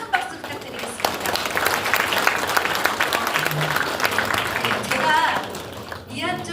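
An audience at a launch ceremony in a conference hall at the Jeju Chamber of Commerce gives sustained applause for a lecturer, dense clapping under a host's voice and fading slightly toward the end.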